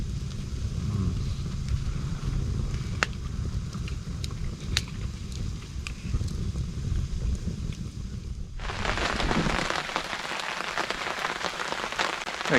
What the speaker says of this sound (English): so it started to rain again.